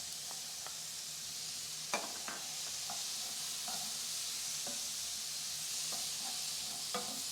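Lentils, dates and vegetables stirred in a hot pan, a steady close sizzle with occasional scraping clicks of the spoon against the pan, no voices.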